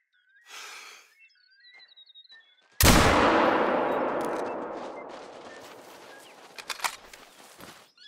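A single loud rifle shot rings out while hunting red deer stags in theHunter: Call of the Wild, with a long echoing decay and faint bird calls before it.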